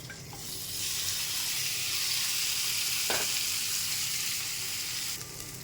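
Small puti fish fry in a tablespoon of oil in a hot frying pan, a steady, close hiss of sizzling that holds evenly for several seconds.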